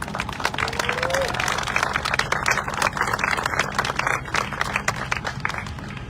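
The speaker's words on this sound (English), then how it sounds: "Let's give him a round of applause." Audience at a Silicon Valley transit funding announcement applauds steadily for several seconds, a thick continuous patter of claps with crowd murmur and a few voices mixed in.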